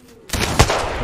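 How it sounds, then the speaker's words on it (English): A loud gunshot in the video game Apex Legends, an abrupt sharp crack with a second punchy hit just after, sounding close and dense within about a second. "Two shots."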